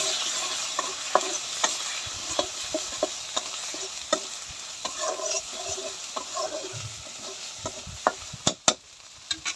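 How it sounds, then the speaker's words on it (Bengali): A spice masala of chili powder, turmeric and coriander fries in a pan for a vegetarian soybean dish, a low sizzle punctuated by many irregular scrapes and taps of the spatula, with louder knocks near the end. "মশলাটা কষানো হয়ে গেছে"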